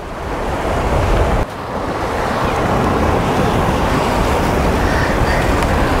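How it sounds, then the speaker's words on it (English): Strong ocean wind buffets the microphone at a Texas jetty, a loud continuous roar mixed with crashing surf, steady and close, with one brief dip before resuming. "Oh, that wind is already picking up."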